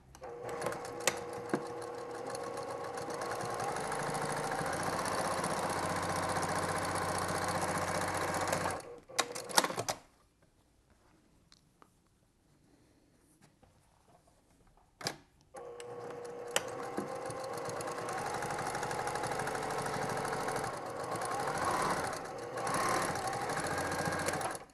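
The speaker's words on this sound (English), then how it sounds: "My strips are all cut down here, ready to go, so I can just start sewing through here." A sewing machine stitches through quilt strips in fast, steady rapid-fire runs, close and loud, stopping for several seconds of near silence midway before resuming its even chatter.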